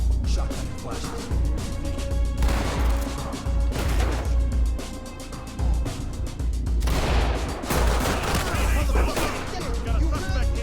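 Shotgun blasts and chaotic gunfire in the tactical shooter game Ready or Not, a dense, loud barrage of repeated booms and crashes with voices talking over the action.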